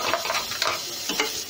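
Chicken for a samosa filling hits a hot pan with dense, close sizzling and crackling, plus brief stirring scrapes over a short burst, no talking.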